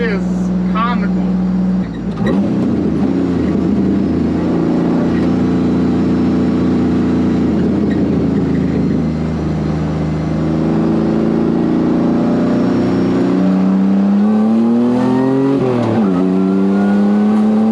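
A supercharged Pontiac Fiero race car accelerates hard from inside the cabin, its engine roaring loud and close through rising gears with a brief shift dip and a final climbing rev, while a driver talks excitedly over it.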